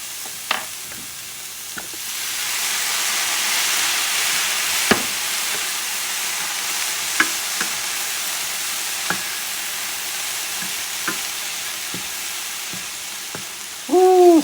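Cauliflower fried rice stir-frying in a pan gives a steady close sizzle throughout, with occasional clicks and scrapes of a utensil and a brief voice at the very end.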